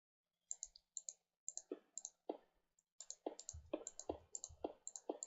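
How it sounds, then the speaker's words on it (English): A computer mouse clicks in quick bursts, crisp and close, with short pauses between clusters and faster, denser clicking toward the end. "I do apologise if you can hear my mouse click as well."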